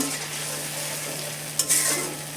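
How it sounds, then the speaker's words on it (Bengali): Mixed spice paste stirred and fried in oil with nigella seeds and a little fenugreek, for mustard hilsa: a steady close sizzle with a brief louder scrape of stirring near the end. "দিয়ে ভালোভাবে নেড়ে চেড়ে কষিয়ে নেব"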